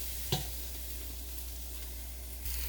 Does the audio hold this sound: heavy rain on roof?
no